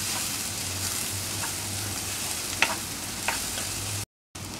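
Chopped onion sautés in oil in a pan for Marathi phodnicha bhaat, a steady low sizzle with occasional spoon scrapes and clicks, close and even, with a brief dropout near the end.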